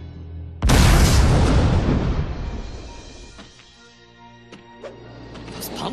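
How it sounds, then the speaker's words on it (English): A pumpkin bomb blows up in the Spider-Man Friend or Foe video game, one loud, close blast with a long rumbling decay and a few smaller pops as it fades. "Those pumpkin bombs sure came in handy."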